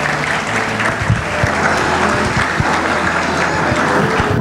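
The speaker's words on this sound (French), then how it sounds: "Applaudissez-les s'il vous plaît." Audience applause for new graduates in emergency medical care at a graduation ceremony, a steady, full round of clapping with occasional louder individual claps.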